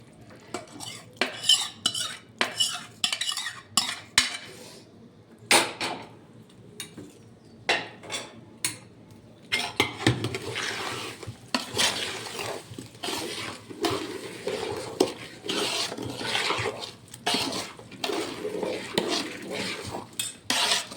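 A utensil stirs and scrapes in a pot as warm sugar syrup is mixed into ghee-rich flour for adadiya, giving close, irregular clinks and scraping strokes that grow denser and busier partway through.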